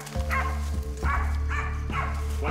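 A terrier bays at a nyala bull during a hunt in dense bush in Mozambique, giving a series of loud, close, repeated barks and yips at an uneven rhythm with no talk.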